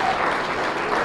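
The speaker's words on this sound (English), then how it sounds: "one more big round of applause, huh? Salem Hills High School Choir" Audience applause rings out for a high school choir at a chamber of commerce awards gala, a brief steady burst of clapping from a large crowd.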